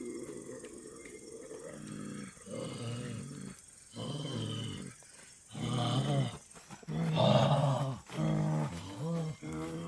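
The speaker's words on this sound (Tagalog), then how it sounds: "Yung aso umuuwang." A dog howls and growls at night in long drawn-out cries with pauses between them, fairly near and rising in loudness toward the end, with voices faintly present.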